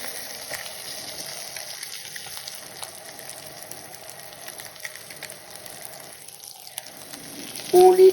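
Trout pan-frying in butter while being basted, a steady close sizzle and crackle with faint spoon scrapes running throughout, ending in a brief louder clatter.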